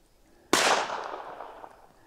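One sharp, loud gunshot from a Ruger Super Redhawk Alaskan 454 Casull revolver, a sudden crack that rings out and decays over about a second and a half outdoors.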